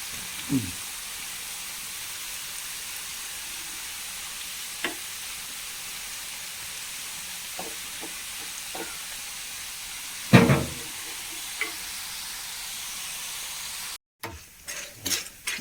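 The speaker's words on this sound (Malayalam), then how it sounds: "എണ്ണയ്ക്ക് നമ്മുടെ കടച്ചക്ക അരിഞ്ഞെടുത്ത് കൊടുക്കുകയാണ്." Slices of breadfruit frying in hot oil, giving a steady low sizzle with a few sharp clinks and scrapes of a utensil in the pan, near and without talk.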